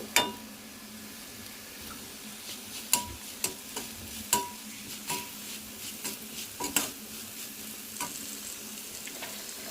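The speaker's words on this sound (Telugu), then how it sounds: "ఈ కాకరకాయ ముక్కలకి ఈ వెల్లుల్లి కారము ఉప్పు మంచిగా కలిపి వేయించుకుంటే" Pieces of bitter gourd fry with garlic chilli powder and salt in a pan, a steady soft sizzle punctuated by sharp clinks and scrapes of a spoon stirring at irregular intervals.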